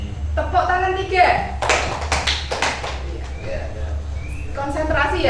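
A group of children clap their hands in a classroom on a teacher's cue, a short burst of sharp claps in quick succession. The teacher's voice is heard before and after the claps.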